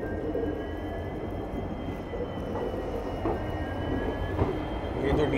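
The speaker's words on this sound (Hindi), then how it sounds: "ये जो डीजल इंजन की आवाज़ है ना," Low, steady engine rumble of a diesel locomotive idling nearby at Jodhpur railway station, a continuous drone with faint clanks and distant background noise, no talking.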